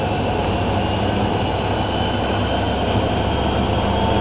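A steady, loud whirring roar holds at a constant high speed throughout from a Miele W5748 and Whirlpool AWM 1400 washing machine spin cycle, drums spinning fast, with no voices.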